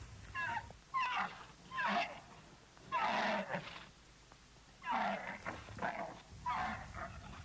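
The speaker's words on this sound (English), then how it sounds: "It was making a pitiful howling sound." Animal howling from a tethered camel in a garden: a series of drawn-out, wavering cries in bursts of about a second each, fairly close and repeated six or seven times with short pauses between.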